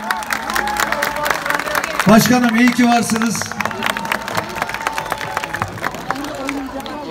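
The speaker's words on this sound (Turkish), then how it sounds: "Sayın Halit Demir için çok büyük bir alkış istiyorum sizlerden" A crowd claps and cheers for the mayor at an outdoor concert, the noise swelling in the middle while a voice talks over it throughout.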